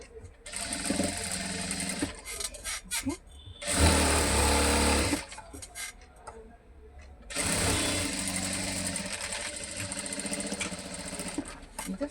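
A sewing machine stitches a side slit on a readymade top in several bursts of loud whirring, the longest running for a few seconds, with quiet pauses in between.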